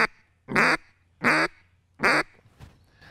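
Duck call blown to imitate a duck, giving three loud, close, evenly spaced single quacks, each about a quarter second long, followed by a fainter click.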